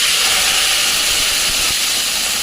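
Spice paste for a milk chicken korma hits a hot pan with a loud, steady broadband hiss that fills the short stretch, close and without any voice.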